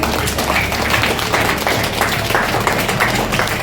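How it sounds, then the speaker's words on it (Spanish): Congregation clapping in a church service, a dense, steady wash of applause filling the room at even loudness throughout, with no break. "Denle un aplauso al Señor Jesús."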